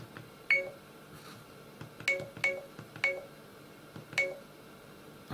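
A 70mai T800 dash cam gives short electronic button beeps at high volume, about six sharp tones over a low steady background hum.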